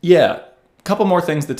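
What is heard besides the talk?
None of the usual background noises is heard.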